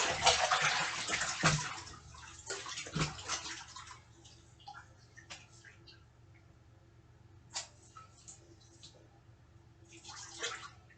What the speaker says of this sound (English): Wash the feet of all my dancers